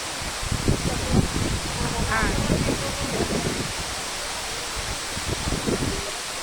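A waterfall at a scenic spot pours with a steady broad rush, while someone talks over it in the first few seconds and again briefly near the end.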